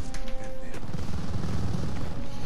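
A dense Call of Duty Vanguard battle on an airfield plays out as continuous, overlapping gunfire and booming cannon shots that crash loudly together with no pause.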